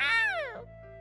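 A single close, clear cat meow that slides downward in pitch and fades over about half a second, heard alone.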